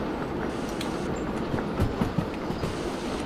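A steam train in the Derail Valley game rolls along the rails with a steady rumbling drone and a few light rhythmic wheel clicks, moderately loud, with no voices.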